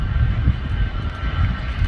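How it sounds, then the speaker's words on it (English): A small Aegean airliner passes at Manchester Airport's Ringway visitor park, its engines making a loud, steady, broadband roar that stays fairly even throughout, with no voices. "That is a very small plane to have come all the way from Greece."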